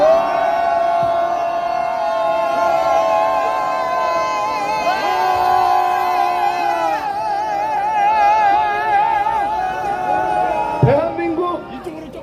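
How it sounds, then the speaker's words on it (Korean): A crowd raises a sustained, loud cheer of many voices shouting together as a show of support for Korean prosecutors and judges, holding steady for several seconds before a sharp burst and tailing off. "크게 3초간 함성을 외치겠습니다"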